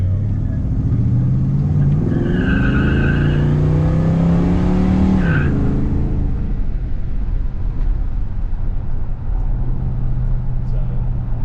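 A 1970 Pontiac GTO, a factory matching-numbers car with a frame-off restoration, out on a test drive, its engine rumbling steadily with a rising pull that peaks and drops around mid-clip, then settles back to a low cruise.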